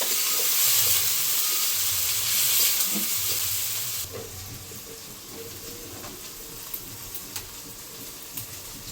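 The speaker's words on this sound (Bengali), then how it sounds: "পেঁয়াজ, পেঁয়াজটা একটু লাল লাল করে ভেজে নেব।" Chopped onions with a bay leaf fry in a pan until reddish, a strong sizzling hiss that softens after a few seconds into a quieter crackle with occasional stirring taps.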